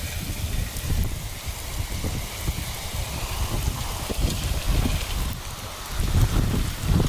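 Heavy rain pours down in a dense, constant hiss with gusty rushes, close and loud and without pause.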